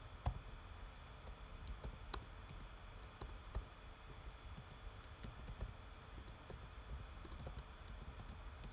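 Quiet, irregular keystrokes tap on a computer keyboard in bursts of soft clicks over a faint room hum, with no talking.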